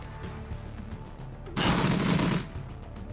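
Gunfire in Shadowrun: Dragonfall comes as a sudden, loud, sustained burst of rapid shots lasting about a second, set against quieter game sounds before and after.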